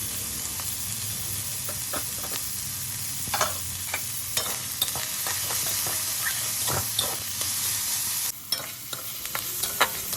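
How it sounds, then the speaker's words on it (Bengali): Chopped raw onion frying in a pan with a little salt, a continuous crackling sizzle close by with repeated scrapes and clicks of stirring. "এবার কাঁচা পেঁয়াজ কুচোনো এটা ভাজা ভাজা করে নেবো"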